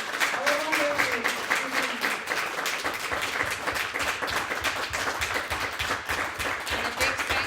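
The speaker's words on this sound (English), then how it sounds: "please join me in a round of applause to thank our wonderful" An audience at a poetry reading in Cagliari claps steadily throughout in a round of applause, with a voice heard briefly near the start.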